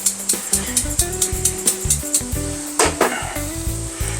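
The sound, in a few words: garlic and spice sizzling in a pan while stirred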